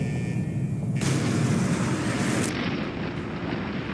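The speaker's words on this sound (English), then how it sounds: "let's see if I can survive the explosion" A large explosion in Fallout 4 lands with a sudden bright blast that swells into a long, loud roaring rumble, then thins to a lingering wash as the burst dies away.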